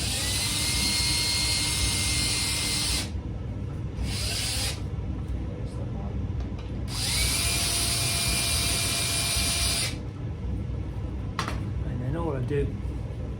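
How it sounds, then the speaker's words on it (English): A powered screwdriver drives long screws into a guitar body, its motor whining in two sustained runs of a few seconds each with a short spurt between, close and fairly loud in a quiet workshop. "some screws, my screwdriver, get in there, a couple of long screws through there"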